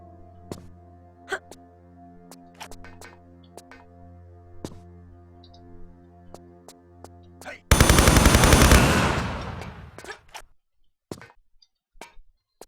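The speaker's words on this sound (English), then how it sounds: "the turrets will open fire on you" Gun turrets open fire in Tomb Raider 3, a dense loud burst of rapid automatic shots lasting about two seconds amid sparse in-game clicks and ticks over a low sustained background tone.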